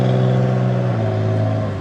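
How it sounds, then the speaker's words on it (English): A loud car passes close by on a city road, its steady engine drone and tyre roar filling the whole stretch while heard from a moving electric bike in traffic. "Why is that car so loud?"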